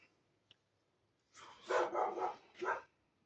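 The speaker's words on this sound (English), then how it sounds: "It was always a risk doing a video with the dog out, isn't it?" A dog at home barks in a quick burst of three or four loud, close woofs at someone walking past, after a brief quiet pause.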